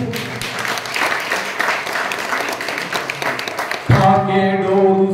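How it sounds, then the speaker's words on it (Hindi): A congregation claps at a devotional bhajan gathering, a steady crowd of hand claps for several seconds before sustained tonal music or singing abruptly takes over near the end. "बाबा जी आपकी ताली बजा कर रखो"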